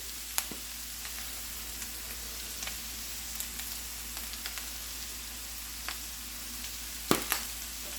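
Seasoned taco filling with garlic powder and pepper fries in a pan just below medium heat, a constant quiet sizzle broken by occasional scrapes and clicks of stirring.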